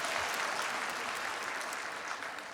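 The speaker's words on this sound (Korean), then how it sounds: "박수 한번 해주세요." A church audience applauds as children's names are called, a steady dense wash of many hands clapping that holds evenly for the whole stretch, with no talking.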